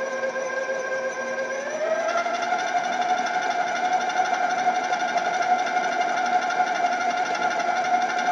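An electric stand mixer runs steadily, mixing flour and milk into a key lime pound cake batter, a continuous whining motor hum that rises slightly in pitch early on, then holds loud and close without talking.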